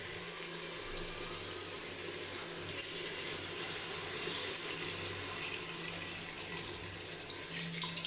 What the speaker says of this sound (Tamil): தண்ணி சேர்த்துக்கணும்